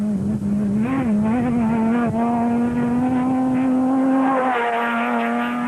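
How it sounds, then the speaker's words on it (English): An Atlas Copco Sandmaster special vehicle racing in the Mafikeng 200 desert rally in 2004, its engine holding a loud, steady droning note with brief pitch shifts as it drives close by. "The Justers were on a charge in the Atlas Copco Sandmaster"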